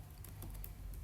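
Typing code on a computer keyboard while writing a C++ do-while loop menu program; a brief, faint run of soft key clicks at a quick, irregular rhythm.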